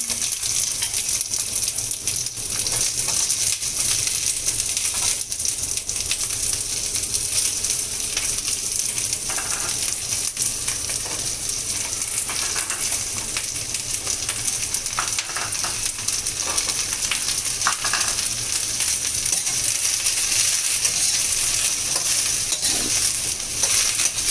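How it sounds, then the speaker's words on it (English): Vegetables stir-fry with browned garlic in a pan, a loud, even sizzle that holds steady throughout, with occasional scrapes and stirring clicks and no talk. "We are just going to stir fry the veggies."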